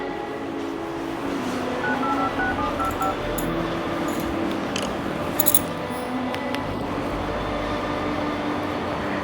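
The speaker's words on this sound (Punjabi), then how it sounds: "ਮੰਮੀ ਨੂੰ ਕਰਦੀ ਆ ਫੋਨ" A phone being dialled gives off a short run of beep tones early on, fairly faint against a steady background hum, with no talking.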